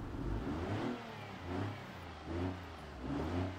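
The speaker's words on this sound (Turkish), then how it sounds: "Motor da çalışıyor." A car engine in the BeamNG.drive driving game revs in repeated swelling pulses, loud and close, with a steady low drone underneath and no voices.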